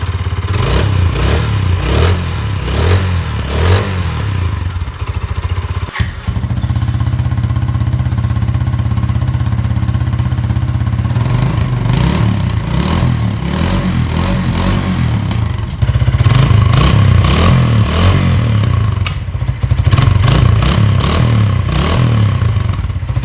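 Suzuki TU250 motorcycle on its stock exhaust, running close by: a loud, continuous single-cylinder thrum with repeated revs and some mechanical clatter, no voices.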